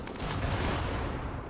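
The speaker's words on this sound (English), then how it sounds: "And by that I mean some explosions." Explosions in the colony-survival video game Rimworld, a dense rumbling burst of booms blending into a continuous crackling roar, moderately loud and without speech.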